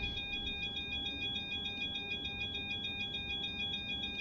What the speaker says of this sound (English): we'll silence these alarms by turning on the APU generators.